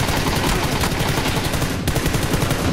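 Rapid gunfire in PUBG, with dense, loud shots cracking continuously through the whole stretch and no pause between them.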